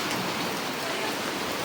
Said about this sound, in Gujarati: જરાક વરસાદ આવે છે, એટલે હું તમને બતાવું.